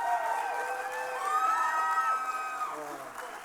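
Crowd at a Saskatchewan music awards show cheering and whooping, rising shouted voices over a bed of clapping that fades near the end.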